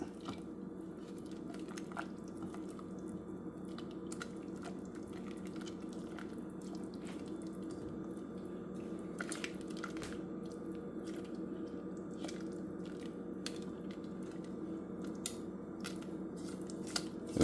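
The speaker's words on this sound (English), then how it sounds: "I'm going to stir it until it's well incorporated" Soft, wet squishing and dripping sounds come from a mixture being stirred into melted chocolate to make chocolate syrup, a faint and close steady stir broken by small clicks, with no talking.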